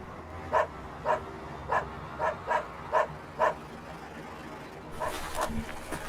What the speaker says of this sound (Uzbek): Keyin itning hurgani eshitildi va qorong'ulik.